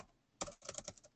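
Bursts of keystrokes on a computer keyboard, a quick run of clicks after a short pause, close and fairly quiet with no talking.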